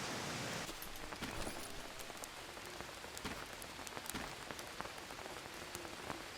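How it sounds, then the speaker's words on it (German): Constant video-game rain in Green Hell pattering on a surface, with scattered sharper drops tapping through a soft, steady wash of noise. "Es regnet."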